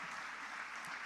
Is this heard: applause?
yes